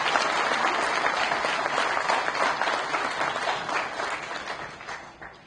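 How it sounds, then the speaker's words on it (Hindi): A large crowd at a political campaign rally ahead of municipal by-election voting bursts into loud, sustained applause, dense overlapping claps filling the space and slowly tapering off toward the end. "मैं चाहूंगी एक बार जोरदार ताली बजाओ।"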